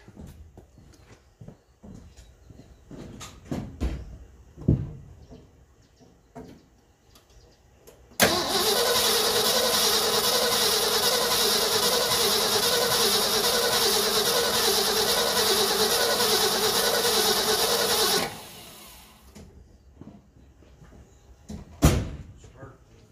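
A 1974 Ford F250 4x4 truck that has sat for years cranks over on its starter for about ten seconds, a loud, steady, churning whir that cuts off abruptly, with light knocks and handling noises before and after.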